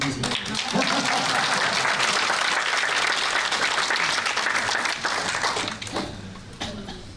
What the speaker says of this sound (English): Usually they applaud in this way.